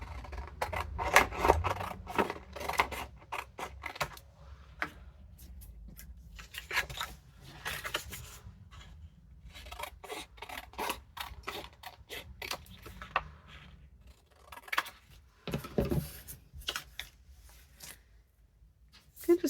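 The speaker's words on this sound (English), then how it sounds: "So basically going to cut this in half, or fold this in half." Scissors cutting paper for a vintage Christmas junk journal, with repeated short snips and rustling paper handling, close up and spread across the whole stretch.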